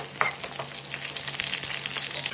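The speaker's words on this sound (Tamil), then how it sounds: "போதும் மிளகா நம்ம நல்லா பொறிஞ்சதுக்கப்புறம்" Dried red chilies frying in hot oil for a home-style mutton pickle give a steady, close crackling sizzle with light stirring scrapes, running on its own without any voices.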